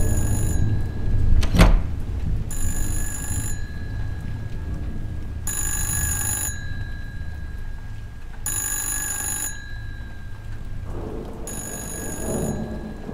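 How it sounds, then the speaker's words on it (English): A telephone rings in the video game Vacant with evenly spaced rings about every three seconds, repeated several times over steady rain, and a thunder crack comes early on. "How about I call one of the rooms and you have to answer the phone as quickly as possible?"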